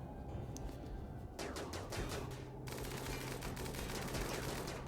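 Rapid bursts of small-arms fire crackle in Rimworld as colonists shoot at a ship, dense rattling volleys that shift in texture and continue steadily, with no talking.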